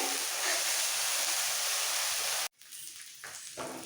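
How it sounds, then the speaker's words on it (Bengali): Ground onion paste sizzles steadily in hot oil in a pan while being browned for a masala katla fish curry, a dense close hiss that cuts off abruptly, then resumes more quietly with a few stirring flares. "এইবার পেঁয়াজটাকে একটু লাল করে ভেজে নিতে হবে"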